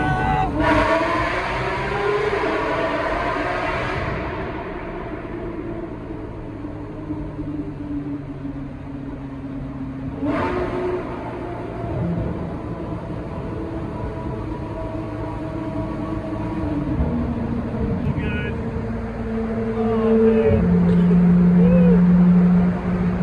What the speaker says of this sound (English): we're here to play you the song of a 2016 GT3